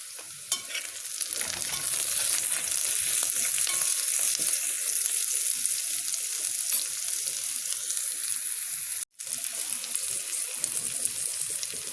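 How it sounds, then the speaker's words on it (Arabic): Onion and garlic fry in a pan as stuffing sauce for stuffed zucchini is started, giving a steady, close sizzle with light stirring scrapes that runs the whole time, a brief break near the end, and no talk. "اول حاجه نجيب بصله نحمرها، وهننزل بمعلقه توم"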